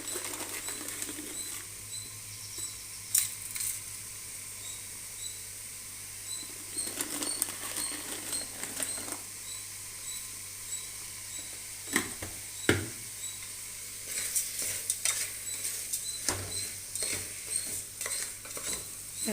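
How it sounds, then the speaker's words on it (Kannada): Salted tomatoes cooking in a pan for tomato bath are stirred with a utensil, giving faint, intermittent scrapes and clinks in irregular bursts over a low kitchen hum, with no talking. "ಟೊಮೊಟೊ ಮೆತ್ತಗಾಗೋ ತನಕ ಕೈ ಆಡಿಸ್ಬೇಕು"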